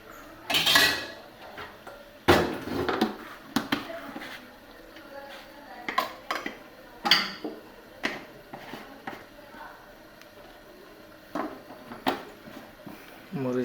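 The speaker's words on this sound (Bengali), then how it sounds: "মরিচ আর হলুদের বাটিগুলো রেখে দিচ্ছি।" Bowls holding chili and turmeric are set down in a kitchen, giving scattered sharp clinks and knocks of dishware and cutlery, close and fairly loud, with short quiet gaps between.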